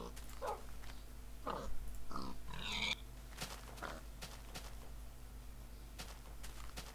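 A Minecraft pig gives a few short oinks and grunts in quick succession over a faint steady background hum, moderately near, with no one talking.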